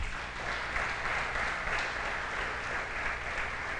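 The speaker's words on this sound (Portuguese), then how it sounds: "Podia até aplaudir, ele não precisa nem pedir." Church congregation at a prayer service applauds, a soft, steady wash of clapping heard from a distance at low level, continuous throughout with no clear speech.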